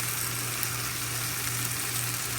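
Eggplant frying in a pan, a steady, even hiss and sizzle of oil that holds constant throughout with no talk over it.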